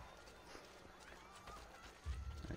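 Horses in Assassin's Creed: Brotherhood clop through a crowded street, a soft, busy run of hoofbeats under low crowd murmur, ending in a heavier low thump.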